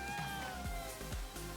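A cat in the video game Ghostwire Tokyo meows softly and repeatedly in short calls over a quiet game music backdrop.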